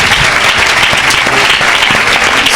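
A church congregation applauding steadily during a prophetic healing service, loud, dense and continuous clapping throughout, with no voices standing out.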